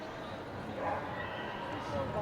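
Hunting dog at an indoor pet expo barking, a few yips and short barks mixed into a steady crowd murmur, with people talking nearby.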